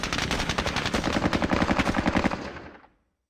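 Rapid automatic gunfire from the video game Squad Battles Eagles Strike rattles in a rhythmic sustained burst, then cuts off and fades to silence.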